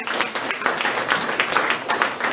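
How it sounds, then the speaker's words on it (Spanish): Congregation applauding during a Spanish-language church service, a steady patter of many hands clapping close by, with no talk over it. "Den un aplauso grande al Señor"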